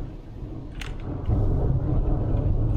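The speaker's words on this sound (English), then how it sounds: "Damn, the lightning won't quit." A low, rolling rumble of thunder from a lightning storm swells midway and then holds as a deep, sustained roar, heard indoors without speech.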